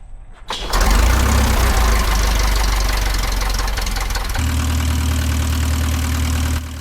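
A 1943 Howard DGA-15 aircraft engine starts with a sharp catch, then runs as a loud, steady, close rumble that shifts to a lower, even idle partway through.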